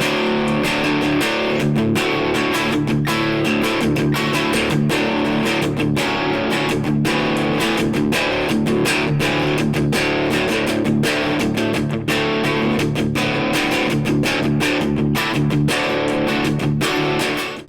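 Electric guitar through a pedalboard with light, low-gain overdrive pushed just past the edge of amp breakup, chords strummed steadily and loudly with no talking.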